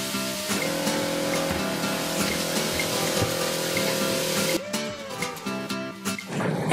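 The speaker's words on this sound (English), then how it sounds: "Okay, let's open the water." Steady water flow with a pump hum on a sailboat after the water is turned on, running continuously at an even level before shifting and tapering near the end.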